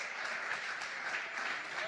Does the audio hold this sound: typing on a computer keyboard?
no